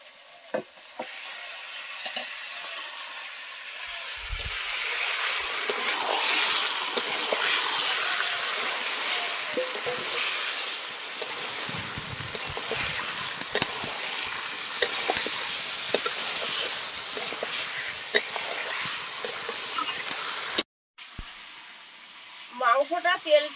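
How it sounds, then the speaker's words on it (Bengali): Marinated chicken pieces go into a pan of cooked-down spice paste and oil in a rustic village kitchen, setting off a steady, loud sizzle and crackle that continues for about twenty seconds, with occasional stirring scrapes. "মশলাটা ভালো করে কষিয়ে নিয়েছি। ম্যারিনেট করে রাখা মাংসটা এবার দিয়ে দেবো।"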